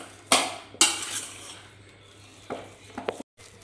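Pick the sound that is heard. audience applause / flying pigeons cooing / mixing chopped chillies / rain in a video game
mixing chopped chillies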